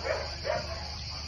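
A female dog at a Lebanese animal refuge lets out two quick, close barks about half a second apart, then falls quiet over low background noise.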